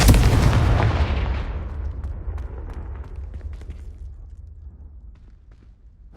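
A Confringo spell explodes in the video game Hogwarts Legacy, landing as one loud, close blast that fades into a long rumbling tail, with no voices.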